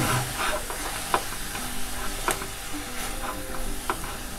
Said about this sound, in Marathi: तर आता मी हा किस आहे तो चांगला परतून घेते